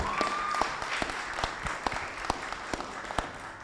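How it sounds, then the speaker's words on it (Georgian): Applause fills a small room at a press conference for the hot dog product of the Georgian snack brand GAMA. The clapping is brief, moderate and fairly sparse, with individual claps standing out, and a short tone sounds near the start. "აპლოდისმენტები გთხოვთ"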